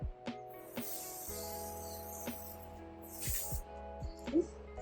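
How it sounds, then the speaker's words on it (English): A few soft hissing sprays from a spray bottle, short bursts spaced apart over a faint steady hum. "I'm just gonna spray where we're gonna put it at."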